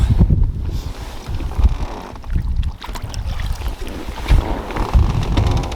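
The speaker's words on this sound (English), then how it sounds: "Got wind blowing on a little flat" Wind gusts across open water on Toledo Bend during a bass fishing outing, a steady rough rumble with surging peaks and wave wash, loud and close to the microphone with no voices.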